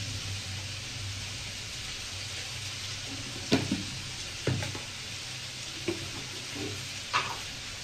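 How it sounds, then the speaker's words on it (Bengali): Potato pieces frying in oil give a steady, quiet sizzle with a few short clinks and stirring knocks near the end and no voices. "এবার আমি আলুটা তেল দিয়ে দিছে, আমি আলুটা দিয়ে দিলাম"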